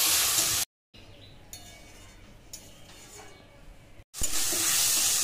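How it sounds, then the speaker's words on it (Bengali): Spices sautéing with a splash of water in a pan while prepping a jackfruit and prawn curry, a soft steady sizzle with faint stirring scrapes, broken by short silent gaps and louder bursts at the start and end. "দিয়ে দিচ্ছি অল্প একটু জল, মশলা দিয়ে খুব ভালো করে কষিয়ে নেব।"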